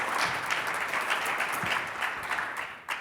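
A debate audience gives a round of applause after the pro side closes its arguments, brisk and dense clapping that holds steady before tapering off with a last few claps.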